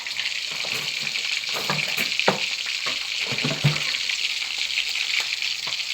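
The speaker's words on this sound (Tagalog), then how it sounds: "Prito po tayo ng isda." Continuous crackling sizzle of fish frying in hot oil, close up, with scattered pops and the odd scrape of stirring.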